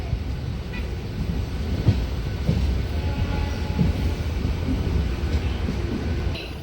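An MMTS local train in Hyderabad rumbles along the rails at a steady pace, with faint rhythmic clacks and a low continuous roar, no talking.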